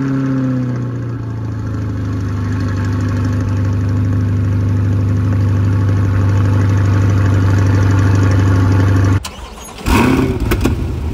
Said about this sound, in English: Let's take a look actually at a cold start